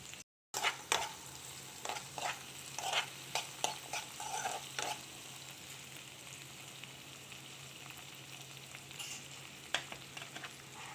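Okra sizzles and fries in a pan with onions and green chilies, with a steady hiss and repeated scraping stirs across the first half before the frying settles into a quieter, even sizzle.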